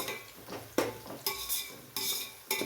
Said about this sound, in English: Keep mixing them on a low flame.